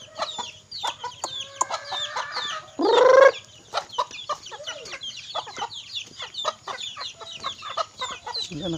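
Hens cluck in a dense, continuous stream of short, overlapping calls at close range, with one louder drawn-out squawk partway through.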